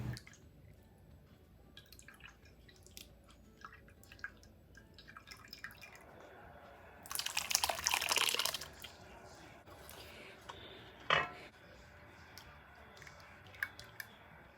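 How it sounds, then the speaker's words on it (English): Apple cider juice drips and squishes as cooked apples are pressed down with the back of a soup ladle, soft wet patters with a louder squelching burst in the middle, quiet and close. "using the back of my soup ladle, we're just going to press it down so all the juice will go down."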